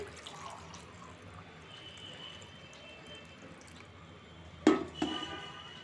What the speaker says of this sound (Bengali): এখন আমি মায়ের জন্য জল ঢেলে নিচ্ছি